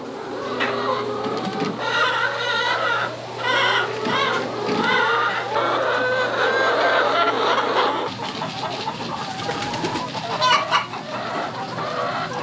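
Hens cluck busily and repeatedly in a farm flock, a dense chorus of close calls over a low steady hum that cuts out partway through.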